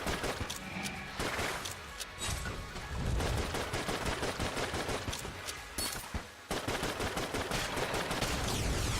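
Rapid gunfire from the roguelike shooter game Enter the Gungeon, dense bursts of shots crackling almost continuously at high volume, with one brief gap near the middle.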